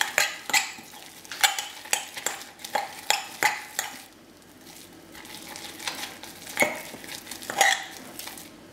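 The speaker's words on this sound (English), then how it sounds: "Now I'm just going to give it a good mix." A homemade Christmas soap mixture stirred in a container, a utensil knocking and scraping against the sides in a quick series of close clicks and clinks, with a short quieter pause midway.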